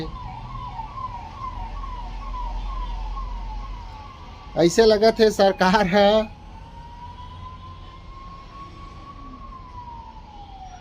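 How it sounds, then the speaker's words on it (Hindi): Ambulance sirens wail steadily along a main road, one rising and falling as it passes, while someone speaks briefly in the middle. "अभी एम्बुलेंस लगातार 3-4 ठी नाकिन है मेन सड़क में।"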